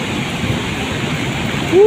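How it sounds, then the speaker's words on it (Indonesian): Flood water from the Koboan river rushes in a steady, dense roar during a major flood with a breached embankment, forming a continuous wash of noise that swells slightly louder at the end. "Tambah membesar aliran dari Sungai Koboan dulur"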